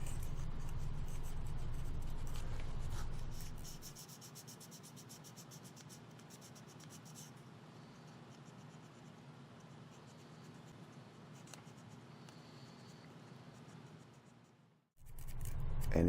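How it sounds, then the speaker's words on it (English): A Flex Sander tip cleaning and squaring off cut edges gives a faint, steady scratchy rubbing, close and continuous, with a low hum dropping away early and a brief pause near the end. "See how the tip end of the Flex Sander can clean and square off your cut edges?"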